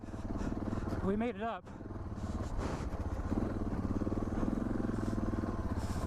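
A Suzuki DR650 dual-sport motorcycle riding through desert terrain, its engine running steadily with a continuous throbbing drone throughout, while a rider speaks briefly over it.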